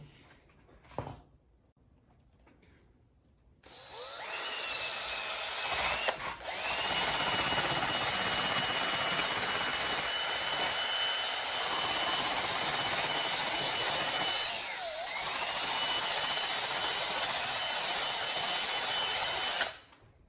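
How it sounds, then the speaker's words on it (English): A power drill fitted with a wire brush spins up after a quiet start and runs loud and steady for about fifteen seconds, with a grinding, scrubbing texture. "But I'm going to chuck this into my drill."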